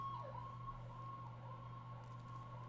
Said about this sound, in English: Oh, sirens. That's the sound of the police.